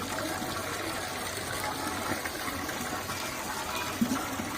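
Red lentils for khichuri being rinsed in water, a continuous soft sloshing and trickling with a small splash near the end, fairly quiet and close.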